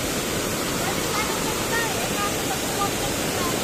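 Swollen, fast-flowing river rushing after a sudden rise in water level, a steady broadband roar with no pauses, close and loud throughout.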